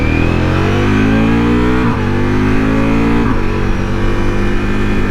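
Ducati Multistrada V4 Rally motorcycle engine revving up through the rpm range in a steady climb, with a brief dip and recovery as it winds up again, loud and close with no talking.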